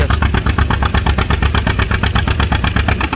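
A tractor engine runs at a tractor pull show, a loud, close, steady chugging with rapid regular beats and no pauses, heard alone without voices.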